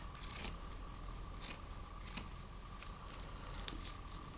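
Scissors snip through paper during crafting, several crisp cuts spaced apart against a quiet room background with a faint steady hum.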